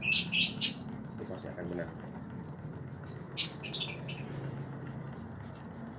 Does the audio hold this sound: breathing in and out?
no